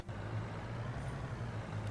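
Truck engine idling steadily in Farming Simulator 23 while the truck is unloaded, a low continuous rumble at even level throughout with no talk.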